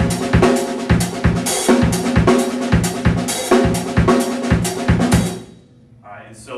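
Full drum kit playing a 2-3 Songo groove, steady and loud with busy syncopated hits across kick, snare and cymbals for about five seconds before stopping, leaving a brief quiet tail.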